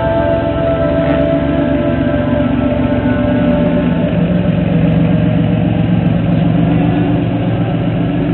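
Engine of a project car idling while it warms up and thermal cycles, a loud, steady low rumble that runs unbroken from start to end with no voices.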